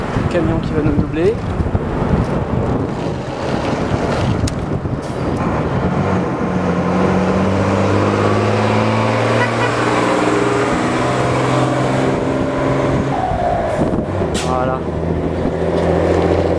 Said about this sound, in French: Camion qui va nous doubler.